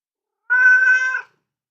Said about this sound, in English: the cat coming to say hi